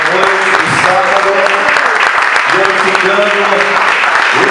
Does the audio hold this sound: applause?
yes